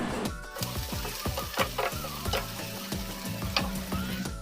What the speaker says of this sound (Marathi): टोमॅटो आणि कांदा व्यवस्थित असा दोन ते तीन मिनटं फ्राय करून घ्यायचा